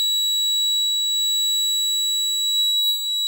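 A security system front door alarm sounds steadily, a continuous high electronic tone with harmonics holding at constant loudness throughout, close and alone with no talk.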